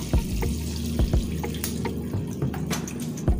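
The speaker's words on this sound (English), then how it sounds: "putting some palm oil" Palm oil poured into a cooking pot for water leaf soup, a steady liquid trickle with soft low splashes and a few light knocks, close and alone with no talking.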